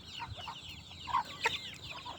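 A chicken clucks in short, soft bursts while pecking at feed, a few quick clucks close by over a quiet background.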